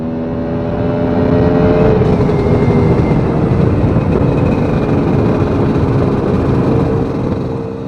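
A motorcycle cruising on a desert road near Quartzsite makes a loud, continuous engine drone mixed with wind rush, holding a fairly constant pitch throughout, with no talk.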